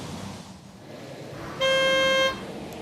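A single car horn honks steadily for under a second, a clear pitched tone, the note C, over a low background rumble.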